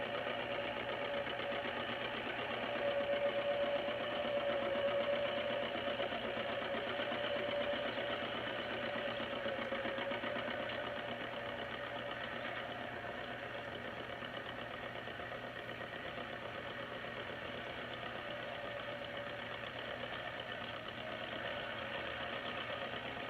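A tractor engine runs steadily at a constant idle, a continuous mid-pitched mechanical drone with a faint whine, heard alone without pauses on an old 1930s John Deere film recording.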